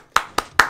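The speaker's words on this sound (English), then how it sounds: "I can clap." Three sharp, evenly spaced hand claps, close and distinct, each with a quick decay, with no talking.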